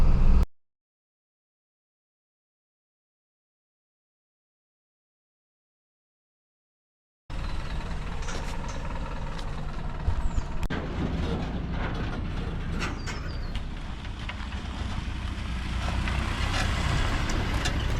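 Vehicle driving a rough off-grid dirt track toward a job site, a steady low engine drone and road rumble with rattling cabin noises, heard after a long stretch of silence.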